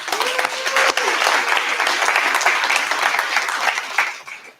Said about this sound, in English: So if you all can just clap it up for yourself.